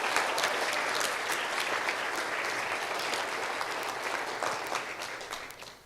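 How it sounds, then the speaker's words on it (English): A crowd claps for the volunteers at a Sunrise Movement event in Asheville, with dense, even applause throughout that slowly tapers off toward the end. "Can we give them a really,"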